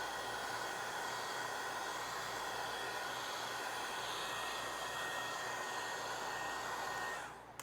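A heat gun warming the paint protection film adhesive on a 2007 Porsche 911 Turbo gives a steady, close, loud blowing whoosh with a faint whine, running unbroken for about seven seconds before it cuts off. No one speaks.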